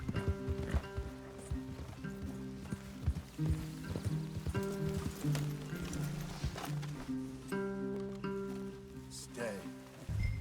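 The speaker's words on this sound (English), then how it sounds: "Leave the horses in the trees there." Horses in Red Dead Redemption 2 clopping on the ground in a steady, uneven rhythm with snorts and a whinny, near and fairly loud, under bursts of speech and game music.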